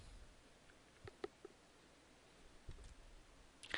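Computer mouse clicks during table and field selection in a database program, a few faint, sharp separate clicks spaced out over a quiet background.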